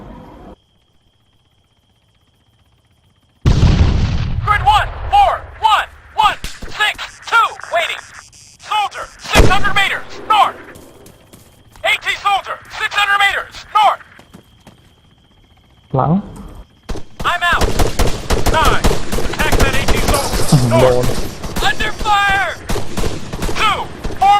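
Arma 3 combat with sharp gunfire bursts and heavy artillery-like blasts comes in clusters, some near and loud, while players talk over it throughout.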